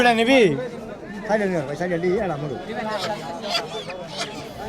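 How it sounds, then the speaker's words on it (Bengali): Ducks and chickens for sale at a rural village market beside the Brahmaputra river at Nandina, clucking and honking faintly in the background while people talk and bargain nearby. "তো এখনো কিন্তু বেশ ভালো পরিমাণেই এই হাঁস মুরগি রয়েছে।"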